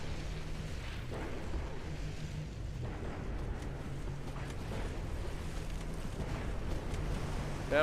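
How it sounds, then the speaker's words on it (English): In the naval game Ultimate Admiral Dreadnoughts, battleships sink a destroyer and a deep, rumbling explosion rolls out, followed by a sustained low roar with a few faint distant thuds, heard alone without speech. "I heard an explosion. I look back and the battleships are killing another destroyer."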